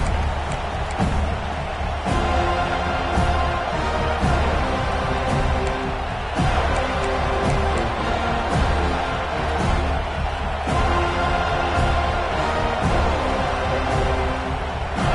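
A college football stadium crowd at an FSU versus OSU game roars steadily, a dense continuous wall of cheering and noise, loud and sustained throughout.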